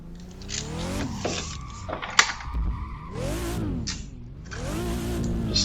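A BMW drifts in the racing game Assetto Corsa at Bihoku Highlands, engine revving up and down with rising and falling pitch while tires squeal and skid in repeated slides, loud and close.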